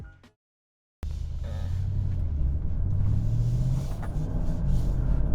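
A 2021 Bentley Continental GT Mulliner drives off after a short silence, its engine a steady, close low rumble with gentle swells as it pulls away.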